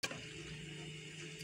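Water is poured into ground rice paste in a blender jar while making kheer, giving a brief, soft, steady trickling splash up close.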